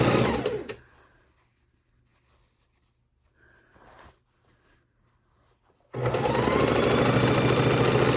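A sewing machine joins quilt pieces, whirring briefly at the start, then near silence with faint fabric handling, before a loud, steady run of stitching starts up close and continues to the end.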